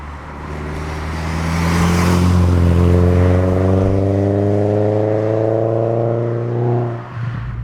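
A turbo-swapped 1.8 Mk2 VW Golf GTI pulls hard along a back road, its engine note climbing steadily through a long, loud rev before easing off near the end, heard from inside the car without talk.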